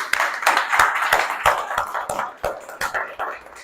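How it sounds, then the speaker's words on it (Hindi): Steady applause from a group at a company meeting, many hands clapping in a loose rhythm with a few sharper individual claps standing out. "तालियां बजाओ सब लोग।"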